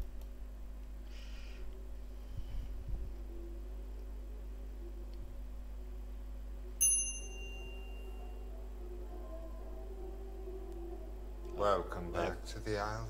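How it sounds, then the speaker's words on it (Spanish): A hotel front desk bell in the game The Isle Tide Hotel gives one clear, bright ding that rings out over a quiet low hum, followed later by a short burst of voices. "Tocar la campana. La campanita."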